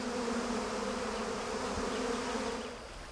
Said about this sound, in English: the honey collector descends into swarms of angry bees